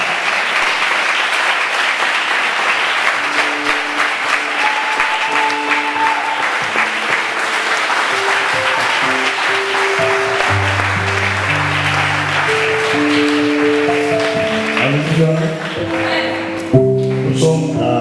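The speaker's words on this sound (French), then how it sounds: "sous vos acclamations." A church congregation at a Pentecost Sunday service claps loudly and steadily for about eighteen seconds, with sustained musical notes sounding over the applause throughout.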